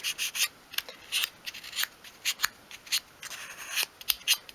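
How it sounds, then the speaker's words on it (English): Sandpaper swept gently over the edges of small wooden pieces for a 1/12 scale dollhouse kitchen sink unit, heard as short close rasping strokes in an irregular rhythm over quiet background. "sweep the sandpaper from inside over the edge of each piece"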